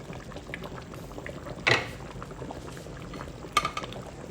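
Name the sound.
Oha soup with cocoyam boiling in a covered pot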